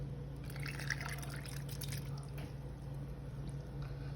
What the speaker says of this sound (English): You just like pour it in.